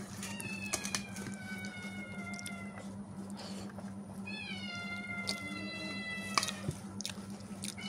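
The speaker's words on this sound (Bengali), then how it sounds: "না বিড়াল ডাকছে" A domestic cat meows several times, drawn-out rising and falling calls at moderate distance, over a constant low hum and faint running water in a home kitchen.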